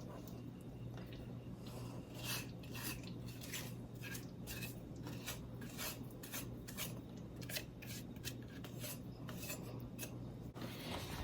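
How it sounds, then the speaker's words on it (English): Peach almond conserve is stirred in a pot during canning. A spoon scrapes and clicks against the pot in a quiet, continuous rhythm over a low steady hum. "We're going to stir that in really well."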